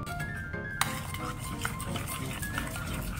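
A utensil stirs chicken pieces in a pan with olive oil, making light scraping and metallic clinks at irregular intervals over a soft steady background, without talk.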